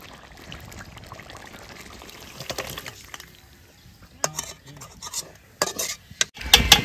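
Cooked duck curry is tipped out of a pot with scattered clinks and scrapes of utensil on metal, growing louder and busier toward the end.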